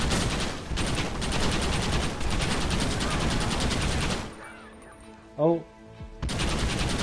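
Rapid, continuous Gatling gun fire in the video game Red Dead Redemption 2, loud and sustained for several seconds, then a brief lull with a short exclamation before the firing resumes.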